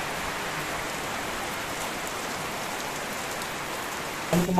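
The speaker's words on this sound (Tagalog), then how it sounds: "lumakas na yung ulan" Heavy rain pours steadily, a dense even hiss, with a brief clatter near the end.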